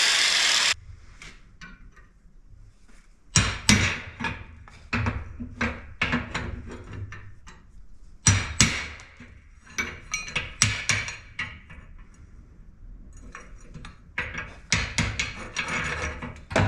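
Sharp metallic strikes land on a rusted rivet in a pair of century-old tongs. The hits come in short irregular bursts, separated by quieter pauses filled with faint scraping and handling noise.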